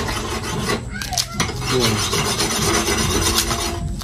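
Knife chopping onion and garlic on a board while preparing chicken adobo, a steady run of close, fairly loud cutting and scraping strokes with no talking.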